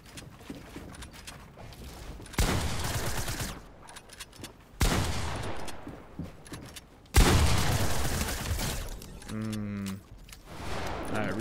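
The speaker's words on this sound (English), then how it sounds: "I was just shooting you through that" Gunfire in a 1v1 video game match, with several loud broadband bursts of shots separated by quieter stretches and a brief tonal game effect near the end.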